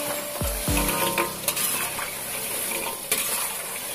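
Amplang fish crackers (Samarinda kerupuk) frying in hot oil, a dense steady sizzle with stirring clinks and a couple of utensil taps against the pan, close and alone.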